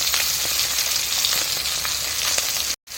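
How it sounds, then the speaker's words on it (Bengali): Black cumin paste sizzles hard in hot oil over an outdoor clay stove, a steady close crackling hiss with a brief cut near the end. "এর মধ্যে আমি কালো জিরার পেস্টটাকে দিয়ে দেবো"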